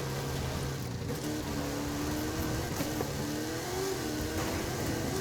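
A Pontiac Firebird engine drives steadily in Forza Horizon, a continuous mid-pitched hum with slight rises in tone, loud and near, with no talk over it.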